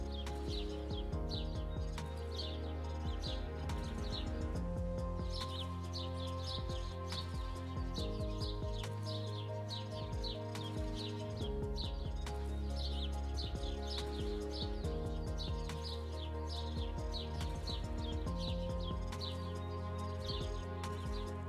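Migratory birds call over the Yellow Water billabongs of Kakadu, a steady wash of chirps and tweets laid over a dense, continuous musical bed, the birds fairly faint in the mix.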